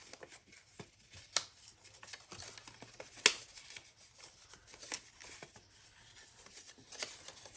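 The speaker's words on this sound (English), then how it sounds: "I'm going to fold all these bottoms up." Paper or card box bottoms being folded up during a table-setting craft, heard as soft crinkling rustles and light handling taps with a few sharper creases, close and quiet with no talk.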